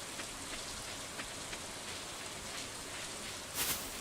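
Rain falling in Stardew Valley, a steady dense hiss of raindrops on a surface with a few soft louder patters, continuous and fairly faint, no talk.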